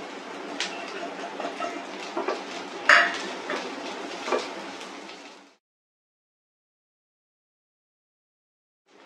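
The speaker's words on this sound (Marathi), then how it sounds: "तांबूस कलर येईपर्यंत कांदा आपल्याला परतवायचा आहे" Onion being sautéed over low heat in a pan while making Maharashtrian vangyache bharit, with clattering utensil and stirring sounds for about five seconds, one sharp metallic knock, then silence.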